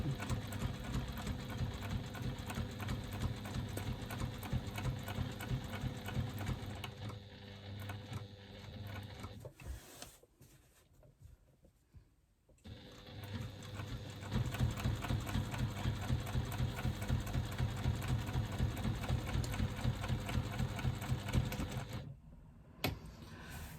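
A sewing machine stitching across the bottom of a fabric slip pocket to close the turning gap, running in a steady close mechanical whir, pausing for several seconds midway, then resuming at full speed with a brief stop near the end.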